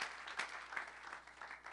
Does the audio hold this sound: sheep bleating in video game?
no